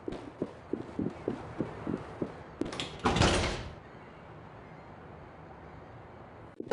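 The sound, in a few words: door opening in SWAT 4 video game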